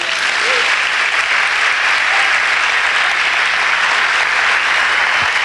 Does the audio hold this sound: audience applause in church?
yes